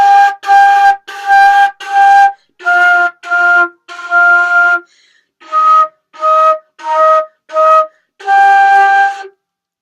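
A flute plays two joined phrases of Jolly Old Saint Nicholas as about a dozen separate notes, most short and a few held, with a brief pause midway, heard close and alone.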